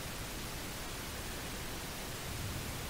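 Steady, dense hiss of mixed pink and white noise from a Moog Model 15 synthesizer app on iPad, constant in level and unbroken for the whole stretch, with no voice.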